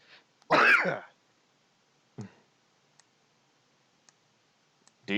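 A single sharp cough bursts out nearby during a tabletop role-playing game session, followed by a quieter throat sound, a few faint clicks and a short noise at the end in an otherwise quiet room.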